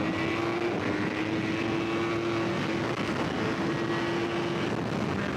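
A car accelerates hard in first gear on a lap of the Buriram MotoGP circuit, its engine a loud continuous drone with a steady high tone, recorded onboard.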